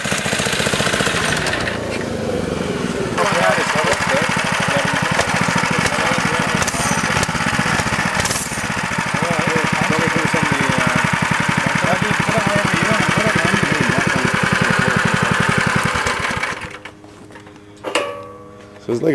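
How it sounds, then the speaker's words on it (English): A throttle-only moped with no gears runs steadily at close range with a rough, buzzing engine note, then cuts out near the end. Brief speech is heard. "So it's like a moped, there's no gears or nothing?"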